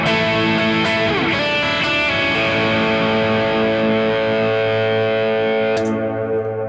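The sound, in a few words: electric guitar chords with reverb and overdrive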